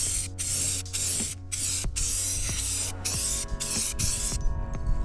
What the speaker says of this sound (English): I'm just gonna spray paint this carpet.